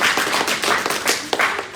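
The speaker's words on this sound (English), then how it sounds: "Come on, a big clap, guys." Dense, continuous clapping from a crowd, loud and steady throughout with a few sharper individual claps standing out.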